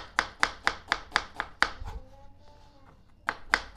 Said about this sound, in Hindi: ये आपने प्याज काट लेना, इसको बारीक भी काट लेंगे